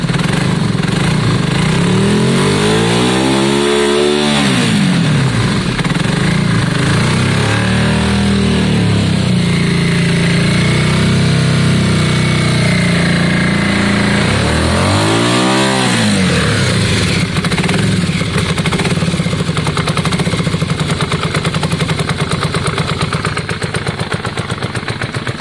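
A Yamaha Virago motorcycle engine runs with one cold cylinder, a loud, close, uneven idle with slow rising and falling swells as the throttle is blipped.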